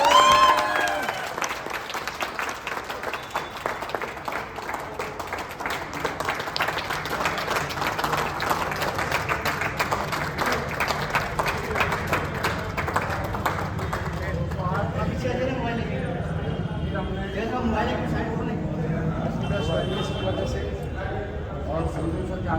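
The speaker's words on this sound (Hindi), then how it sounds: "जोरदार तालियां आ जाए।" An audience breaks into loud, dense applause that holds for several seconds and then thins out as a voice takes over speaking to the crowd.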